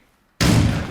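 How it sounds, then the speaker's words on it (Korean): Gunfire erupts outside a house in a horror film, one sudden loud blast after silence followed by a sustained dense burst of noise. "그때 밖에서 총소리가 들립니다."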